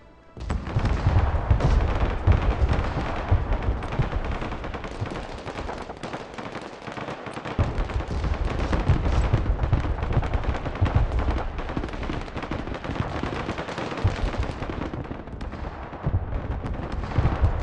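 Mortar and artillery fire in Broken Arrow, heavy booms and rumbling blasts layered with rattling gunfire in a dense, continuous battle din with no clear pauses.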